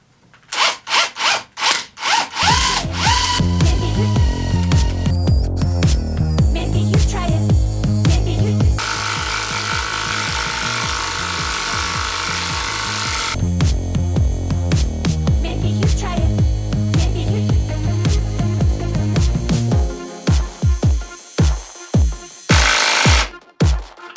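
A Ronix 280 N·m impact driver on third speed drives a 250 mm lag screw: brief trigger bursts, then a loud, continuous hammering rattle for about seventeen seconds, ending in a few short pulses close by.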